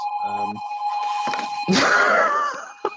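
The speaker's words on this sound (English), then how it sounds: "Nina traveled back in time with that ringtone" An old-fashioned telephone bell rings in a short burst over an online group chat, loud and close, followed by a brief swell of mixed noise and a sharp final click.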